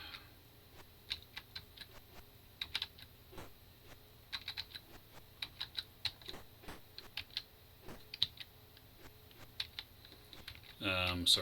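Computer keyboard keys clicking while an Atari 8-bit Karateka game is played, a quick irregular patter of close taps with brief pauses and a short burst of game noise at the end, a voice faintly present.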